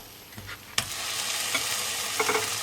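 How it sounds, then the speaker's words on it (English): Pineapple rings sizzle steadily in a hot frying pan, with a sharp clack near the start and a few soft scrapes over the continuous frying hiss. "Sizzle, sizzle."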